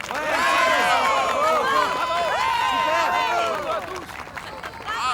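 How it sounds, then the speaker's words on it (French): An audience applauds and cheers for children, a dense wash of many excited voices and clapping that stays loud for about three and a half seconds, then thins out. "Applaudissez-les très fort s'il vous plaît."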